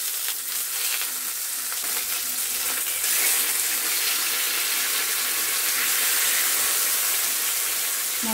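Hilsa fish frying in a covered pan gives a steady, hissing sizzle up close, with a brief shuffle as the fish is flipped and the sizzle swelling slightly afterward.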